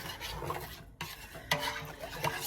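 Green hot sauce with canning salt stirred in a pot, a brief close scraping swirl of a spoon with a couple of light knocks against the pot's side.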